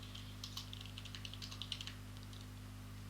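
Computer keyboard typing shell commands for an HPC system, a close, quiet run of quick clicky keystrokes over a steady low hum, ending in a pause.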